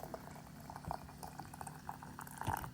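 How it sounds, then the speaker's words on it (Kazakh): Water boiling vigorously in a pot while cherry compote is being prepared for jarring, a steady bubbling and gurgling with small pops, fairly faint and close, with no talk. "Суымыз сақырлап қайнап тұр."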